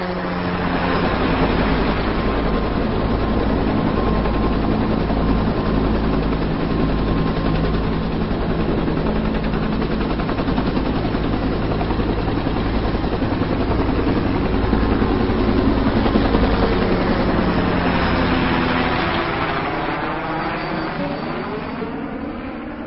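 A helicopter flying overhead in rural Tucumán, its loud continuous rotor and engine drone holding steady and thick before easing slightly near the end.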